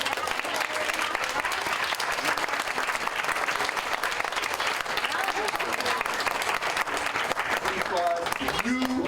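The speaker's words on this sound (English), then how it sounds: "we're going to give the first half of the readers a big round of applause" A crowd at a summer reading program awards ceremony claps steadily and loudly for young readers, the dense applause running throughout with a few voices emerging near the end.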